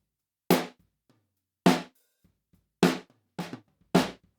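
Drum hits run through a Sonnox Oxford Drum Gate, five sharp, decaying strikes at irregular spacing with the quieter hits reduced to faint ghost notes in between, and silence around them.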